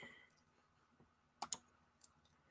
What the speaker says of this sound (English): if you like the clacky keyboard sounds and that feels like ASMR to you